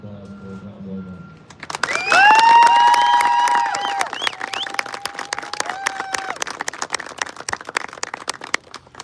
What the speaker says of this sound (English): please join me in a round of applause for John Logan